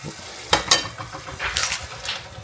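Chorizo sizzles in a pan as a breakfast burrito filling cooks. A soft frying hiss runs underneath, and a few sharp scraping, stirring clacks cut in near the start and again later.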